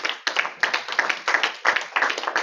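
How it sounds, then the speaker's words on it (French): A Toastmasters club audience at the GreenHouse in Abidjan's Ivoire Trade Center claps for a speaker in loud, close, rhythmic bursts that pulse at a steady beat without any talk. "On applaudit donc pour Sanougo."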